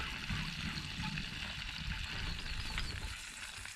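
Fish sizzling as it fries in a pan over a forest campfire, a steady crackling hiss with occasional small pops, fairly close and continuous.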